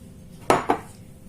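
A small salad bowl is handled for dried fruit: two quick ceramic clinks close together, close and fairly crisp, over a quiet kitchen background.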